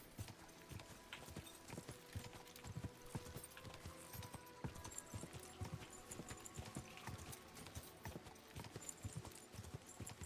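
Horse hooves clip-clop in the video game Kingdom Come: Deliverance II, a steady stream of quick, sharp close hoof strikes in uneven rhythm, faint overall, with no talking.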